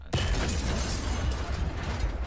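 Bomb explosion in a video game, a sudden loud burst that cuts in abruptly and then rumbles and crackles on in a broad, noisy wash, with no talk.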